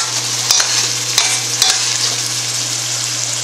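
Noodles frying in a skillet, a loud continuous sizzle under a steady low hum, broken by three sharp stirring knocks near the start.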